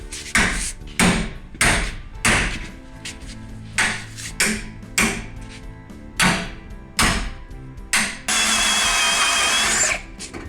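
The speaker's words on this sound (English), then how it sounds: "grabbing his body hammer to pop this off" Sharp metallic blows from a body hammer knocking off lower radiator holders on a Plymouth Colt Vista wagon ring out one after another in an uneven rhythm, close by, followed by a steady hissing burst at the end.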